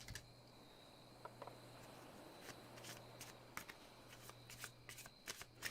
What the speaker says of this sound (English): I'm going to do this thing where I shuffle, and then I'll take one, and then I'll shuffle.